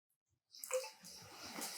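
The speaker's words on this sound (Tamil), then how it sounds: "தண்ணி ஊற்றிக்கிறேன், கூலிங் தண்ணி." Cool water pours into face pack powder in a short, soft splashing stream that starts after a moment of silence and trickles on quietly to the end.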